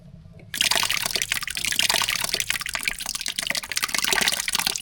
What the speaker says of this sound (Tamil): தாளிப்பு கூட தயிர் சேர்த்துக்கலாம்